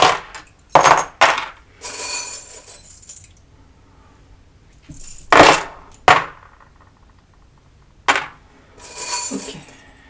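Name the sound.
charms being tossed and dropped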